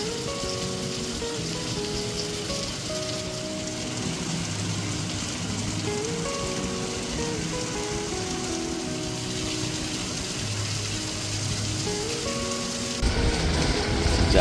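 Heavy monsoon rain pours down steadily in a village, a dense even hiss throughout with faint tonal sounds underneath, swelling louder right at the end.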